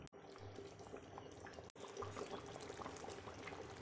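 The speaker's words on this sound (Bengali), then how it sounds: "আস্তে আস্তে আমি মাংসটা ঢেলে দিচ্ছি।" Chicken pieces for biryani slide slowly into a pot, giving a continuous wet, bubbling pour with two brief sharp knocks at the start and middle, steady and fairly close.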